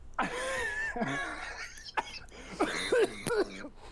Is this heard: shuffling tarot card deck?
no